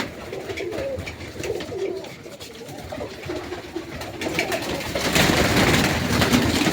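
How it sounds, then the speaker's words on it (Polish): Pigeons coo softly against a busy background of rustling and movement, growing louder and noisier toward the end. "Gołębie są."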